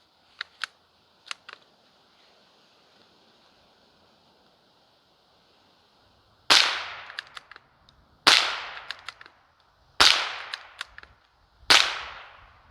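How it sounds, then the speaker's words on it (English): Four sharp gunshots from a Savage Mark II bolt-action .22 LR rifle, evenly spaced about two seconds apart, each a loud crack with a short decaying tail, following a few faint clicks. "the Savage Mark II. This is an awesome little bolt gun chambered in 22 LR."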